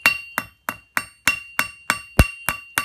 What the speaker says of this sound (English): you take your leaves, which you've cut out, and a dull crossbeam hammer, go to your anvil,